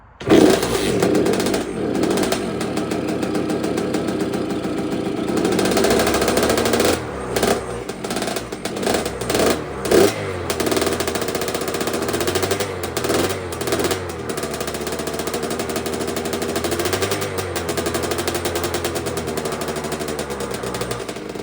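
A Kawasaki KX65 dirt bike engine, freshly rebuilt with a big bore kit, runs loud and close for the whole stretch with a rapid, buzzy rattle, dipping and surging a few times as the throttle settles.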